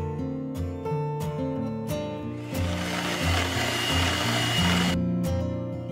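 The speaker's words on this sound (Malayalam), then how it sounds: "അങ്ങനെ നമ്മുടെ വിപ്പിംഗ് ക്രീം നന്നായിട്ട് ബീറ്റ് ചെയ്ത് കിട്ടിയിട്ടുണ്ട്" An electric hand mixer beating whipping cream with powdered sugar for an orange mousse, a steady motorized whir with tonal hum that thickens into a rougher churning buzz partway through, close and alone.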